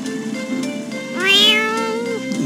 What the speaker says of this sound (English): I can hear her purring, can you?